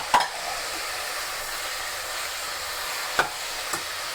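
Two chopped tomatoes hit hot oil in a pan for potato kurma and give a steady, fairly quiet sizzle. A few brief sharp clicks cut through the hiss of the frying.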